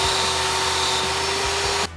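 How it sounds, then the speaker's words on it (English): A power drill boring holes through a homemade chef's knife blade, a steady loud high-pitched whine running continuously before cutting off abruptly near the end. "I actually really suck at drilling holes"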